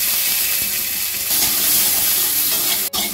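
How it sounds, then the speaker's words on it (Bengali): Whole garlic, ginger and green chillies fry lightly in hot oil with a loud, close, continuous sizzle and crackle. The sizzle is broken by a brief stirring scrape near the end. No one speaks. "তেলের উপরে দিয়ে হালকা করে একটু ফ্রাই করে নেবো"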